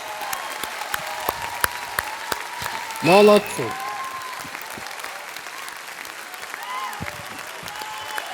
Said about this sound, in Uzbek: Jahongir, Guljahon olqishlab qo'yamiz